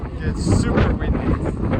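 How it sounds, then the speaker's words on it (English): Strong wind gusts across a Sacred Valley viewpoint in Peru, buffeting the microphone with a loud, rumbling roar that swells and dips, while a person speaks partly masked by the blustering air. "it gets super windy."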